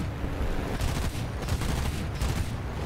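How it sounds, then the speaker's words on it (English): Machine gun fire from a Yak-1 fighter plane in War Thunder, a dense continuous rattle of rapid shots over steady engine roar, loud and close throughout, no voices. "I've only got machine guns, so I'm going to have to spray this guy."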